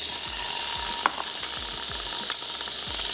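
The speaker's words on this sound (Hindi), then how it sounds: "अब हम इसमें अगेन ऐड कर देंगे 1 से 1 टेबल स्पून ऑयल और साथ ही शामिल कर देंगे 1 टेबल स्पून बटर" Oil and butter sizzle loudly in a pan for pav bhaji pasta, a steady close hiss broken by a few faint clicks and scrapes.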